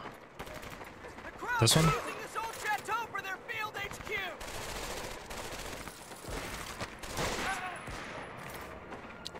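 Bursts of gunfire from the shooter game Medal of Honor: Vanguard on hard difficulty, with a loud close volley near the start and scattered shots throughout, mixed with people talking over the action.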